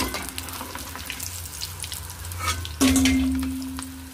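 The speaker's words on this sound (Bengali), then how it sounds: "আমি পকোড়াগুলো এইভাবে সবকটা ভেজে তুলে নেব" Continuous crackling sizzle of pakoras frying in hot oil nearby, with a few clinks of utensils and a low hum joining near the end.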